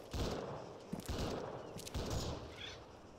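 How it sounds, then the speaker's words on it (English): Gunfire from two different weapons in a battle royale video game, dense overlapping bursts of shots close and loud, rolling almost continuously with a few brief dips. "There's two different weapons firing."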